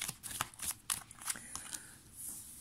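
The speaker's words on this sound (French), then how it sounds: "c'est pour vous battre les cartes devant vous en fait" Tarot cards are shuffled close up in a quiet room: a quick run of crisp riffling slaps and soft shuffles, loudest early, then tapering into lighter flicks.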